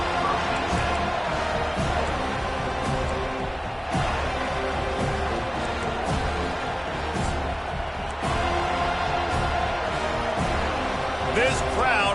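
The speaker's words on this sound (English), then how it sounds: "This crowd bringing an ear-splitting welcome to their visitors." A packed stadium crowd at an American football game roars loudly and without pause, a dense wall of cheering that runs the whole time beneath a commentator's running play-by-play.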